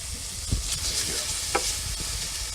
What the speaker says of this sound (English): And that's sizzling bacon. Listen to that sizzle.